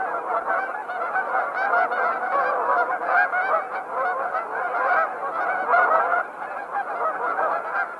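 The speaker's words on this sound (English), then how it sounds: "attracted by the hawkings of the geese already on the ground here" Geese at Horicon marsh honking: a dense, continuous chorus of many overlapping honks from a flock on the ground, loud and steady throughout.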